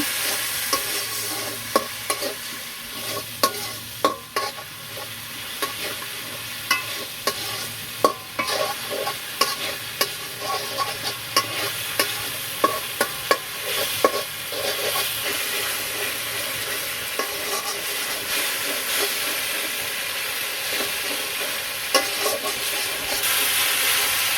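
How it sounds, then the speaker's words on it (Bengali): Spice paste of salt, Kashmiri chili and turmeric frying with a little water in a pan for a dal and green banana curry, giving a steady close sizzle with frequent scraping stirs throughout, no talking. "জল দিয়ে মশলাটা ভালো করে ভাজি"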